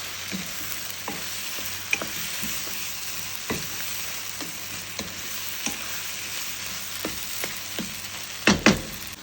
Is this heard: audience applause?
no